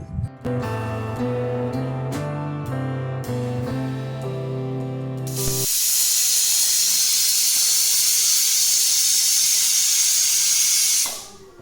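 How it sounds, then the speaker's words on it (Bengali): Peas boil in a pot for homemade ghugni, and after a stretch of music a loud, steady steam hiss rushes in and holds for about six seconds before cutting off. "ওদিকে মটরটাও কিন্তু সেদ্ধ হচ্ছে"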